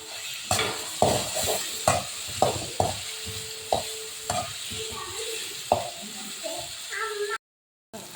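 Carrots, beans and capsicum stir-fried in a pan for pasta masala, with repeated scraping stirs of a utensil against the pan over a steady sizzle, close and fairly loud, with a short silent gap near the end.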